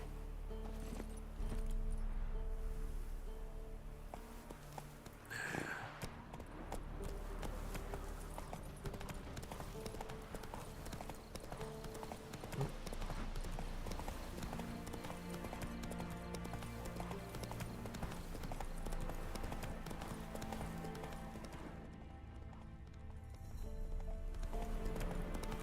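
Roach, a horse in The Witcher 3 video game, trots with a steady clip-clop of hooves that carries on throughout, heard over game ambience and music.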